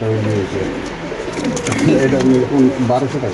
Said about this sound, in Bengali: খুব মাশাআল্লাহ বড় সাইজের কবুতর আল্লাহর মতো